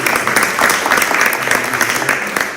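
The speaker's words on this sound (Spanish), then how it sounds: "aplaudimos, ¿no? Aplaudimos." An audience at a group discussion session claps together in a dense, steady burst of applause heard close and loud throughout.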